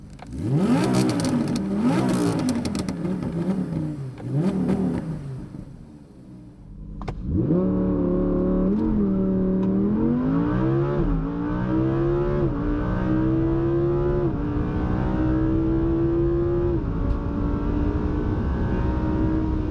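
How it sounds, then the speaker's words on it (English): An Audi R8 V10 Plus with its naturally aspirated 5.2-litre V10 in performance racing mode gives loud, close exhaust revs that climb in repeated rising surges, with a brief lull before the sustained pulls. "Now I'm switching to the racing mode, performance racing mode, and that also changes the exhaust."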